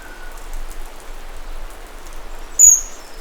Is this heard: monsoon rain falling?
yes